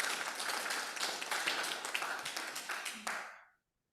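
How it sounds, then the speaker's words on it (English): A small audience at a talk on writing short personal essays gives a round of applause, the individual claps audible in a brisk, fairly close patter that thins out before stopping abruptly. "Another round of applause, I think."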